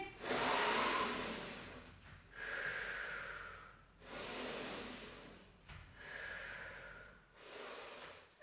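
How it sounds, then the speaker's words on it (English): Slow, deep breaths during the cool-down of a cardio class, several long airy inhales and exhales close to the microphone, each swelling and fading in an even rhythm. "take a big breath in"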